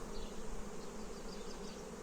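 Many honey bees hum in a dense, continuous drone at a six-frame hive, soft and steady with no voices.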